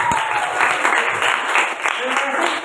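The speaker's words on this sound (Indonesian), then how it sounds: "tepuk tangan untuk" An audience claps together in a classroom or lecture setting, a dense steady patter of many hands with a voice speaking over it.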